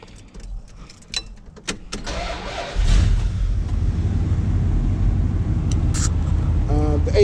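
Keys jingle and a few clicks sound in an old first-generation pickup truck before its engine cranks and catches, settling into a loud, steady rumbling idle close by, with a brief voice near the start.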